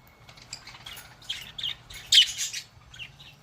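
A pet budgie or lovebird squawks and chirps in short, sharp bursts close by, one louder screech standing out among scattered chirps over a quiet indoor hum.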